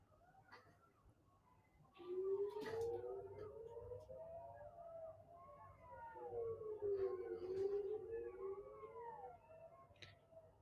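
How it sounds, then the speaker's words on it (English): A rising and falling siren wail carries through at a distance, with jackals' higher howling voices weaving over it in wavering, overlapping cries. "do you hear the jackals? It seems like the sirens almost always set off the jackals."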